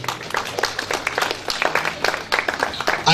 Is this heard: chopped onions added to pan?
no